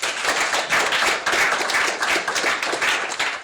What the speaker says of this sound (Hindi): एक बार जोरदार तालियों से मंच पर स्वागत करती हूँ।